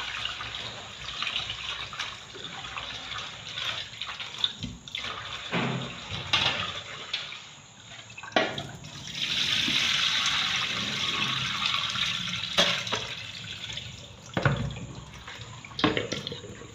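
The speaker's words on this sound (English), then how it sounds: "So I'm adding hot water." Hot water is poured into a pot in a kitchen, making a steady splashing rush in the middle with clatter and handling noises before and after.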